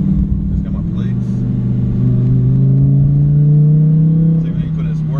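A Dodge Hellcat in sport mode gives a deep engine rumble whose tone climbs steadily as it revs, loud and close inside the car, while people talk over it.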